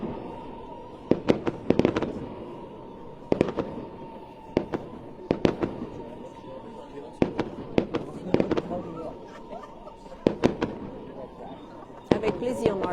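Fireworks bursting over Saumur in the Loire Valley on the July 14 national holiday, a string of loud booming explosions spaced a second or two apart, with crackling and faint crowd murmur and talk beneath.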